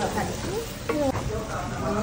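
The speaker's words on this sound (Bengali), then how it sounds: "চিংড়ি দিয়ে লাউ কাটা গেছে, লাউ রান্না" Bottle gourd and shrimp sizzle in a hot pan while being stirred, a steady frying hiss with a few scraping stirs. Voices talk in the background.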